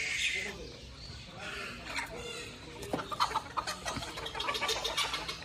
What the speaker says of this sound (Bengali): টার্কি মুরগি, তার সাথেই এই চীনা হাঁস